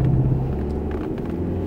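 A car engine rumbles steadily at low pitch during a driving lesson, a short continuous drone with no voices over it.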